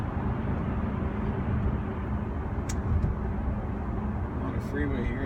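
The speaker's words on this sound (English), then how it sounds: "You just hear a little bit of road noise and a bit of air noise." Steady broadband road rumble and wind noise from inside a moving Tesla Model S P85D on a freeway, continuous and even throughout, with a couple of faint brief clicks.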